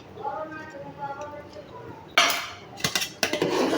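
Beaten egg poured into corn soup and stirred in a pot, with metal utensil clinks and scraping against the pot in the last second and a half, following a stretch of talk.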